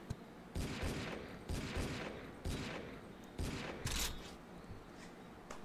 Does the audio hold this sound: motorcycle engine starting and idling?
no